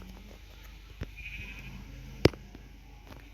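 A sheep bleats in the video game Minecraft, with one short, sharp bleat standing out against a quiet background of faint game sounds.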